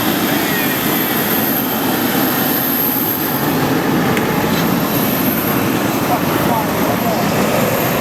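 Steady broadband roar of an airplane landing, loud and continuous, with a low rumbling rush throughout and no distinct breaks.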